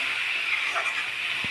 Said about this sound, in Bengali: মশলাটা কষানোর জন্য সামান্য আমরা জল যোগ করছি